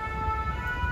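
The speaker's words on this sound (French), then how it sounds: "Ah, ça c'est les pompiers" A fire brigade siren sounds on a town street near a covered market in Saint-Astier, Dordogne, a steady tonal wail heard at moderate distance over low traffic rumble.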